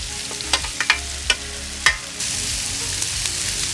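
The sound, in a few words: chicken wings sizzling on a Blackstone flat-top griddle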